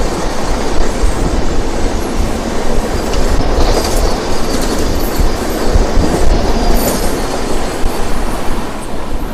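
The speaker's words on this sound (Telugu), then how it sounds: "తీసుకొచ్చి మనకు తిరుపతి సికింద్రాబాద్ వందే భారత్ ట్రైన్ వెళ్తుంది." The Tirupati–Secunderabad Vande Bharat train passes close by at a railway station, a loud sustained rumble of wagons with rhythmic clickety-clack and a hint of wheel squeal throughout.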